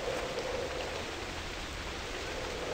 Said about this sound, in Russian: Но, правда, дождь пробивает.